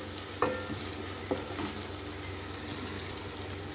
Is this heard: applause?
no